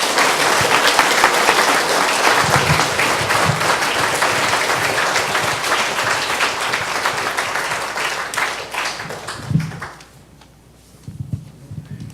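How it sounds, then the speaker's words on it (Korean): Congregation applauding in a Korean Baptist church right after a pastor's ordination is proclaimed at a dedication and ordination thanksgiving service; dense, steady clapping fills most of the clip, thins out near the end, then a few scattered claps follow. "다시 한번 박수를 부탁합니다"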